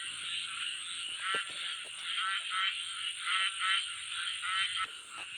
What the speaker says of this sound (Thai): โอ้มีตัวใหญ่ครับกบนี่นะ